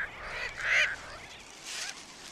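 A sooty tern colony in Hawaii calls out, with harsh, nasal bird cries rising over a steady background din. One louder squawk comes near the middle and fainter calls follow.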